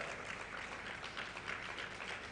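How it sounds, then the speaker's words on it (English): An audience at an inaugural function claps in a sustained, even burst of applause, fairly quiet and continuous without voices. "Please give him a big round of applause"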